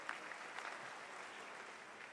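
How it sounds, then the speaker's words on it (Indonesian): Applause from a church congregation at a Christmas service fills the room, a steady, fairly quiet wash of clapping that holds evenly throughout. "Yang percaya kita tepuk tangan yang paling meriah bagi Dia."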